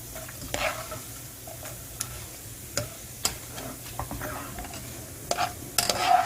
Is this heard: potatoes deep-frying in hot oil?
yes